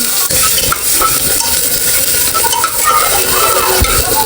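Chopped onions sizzle steadily in hot mustard oil in a pan, a loud continuous fry broken by scraping stirs and light clinks of a utensil against the pan, with no talking.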